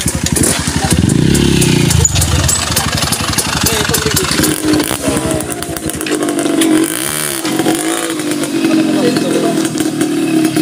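Motorcycles revving and idling up close on a muddy trail, a loud, rough mechanical drone with rising and falling pitch throughout.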